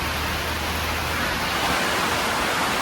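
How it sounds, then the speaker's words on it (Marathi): Heavy rain pours down hard with wind blowing, a dense, loud, unbroken hiss close by and no talk over it. "खूप डेंजर पाऊस आहे."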